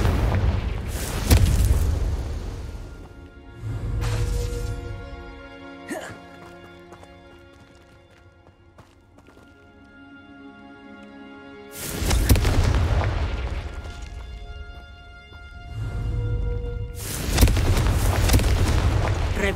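Confringo blasting-spell explosions from Hogwarts Legacy, several heavy booming bursts at the start and again near the end, separated by a quieter stretch of tonal music and effects, with galloping hoof-like thuds mixed in.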